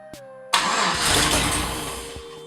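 A Datsun 240Z with a swapped 4.8L LS engine cranks without catching: a brief click, then a loud, steady whirring crank that runs for about two seconds.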